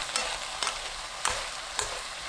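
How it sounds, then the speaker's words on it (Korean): King oyster mushrooms stir-fried with bacon, garlic and oligosaccharide syrup over medium heat, a close, even sizzle marked by four evenly spaced spatula knocks against the pan, with no talking. "볶아둔 베이컨과 마늘 넣고 올리고당 1큰술 넣어 중불로 30초 볶습니다"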